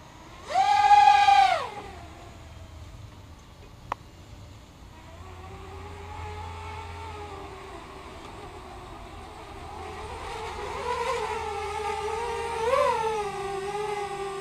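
The brushless motors of a Tweaker 180 quadcopter on a thrust test, Sunnysky 2204 2300 motors with rotorgeeks 20 amp ESCs, give a sharp whining burst of throttle, then sustained rising and falling whines, close and without talk.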